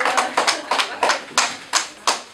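Small group in a calligraphy class clapping for themselves, a few slow, sparse claps in an uneven rhythm, close and fairly loud, lasting just over two seconds.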